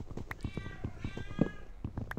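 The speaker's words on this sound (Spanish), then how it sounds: "A mí Milo se está quejando de la vida" A Siamese cat meows over and over in a complaining tone, close by, with a drawn-out meow in the middle and soft thumps and shuffling around it.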